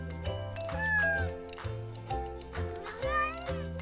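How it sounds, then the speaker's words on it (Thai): A cat meows several times in rising, drawn-out cries layered over a cheerful backing track from a Thai children's animal-sounds dance song. "แมวเดินมาทำหน้าเป็นแมวหน้าตาบ้องแบ้วร้องเหมียวเหมียวเหมียว"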